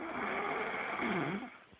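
A young boy snores loudly in his sleep, a steady, close, rasping drone that swells and dips in pitch through one long breath before fading at the end.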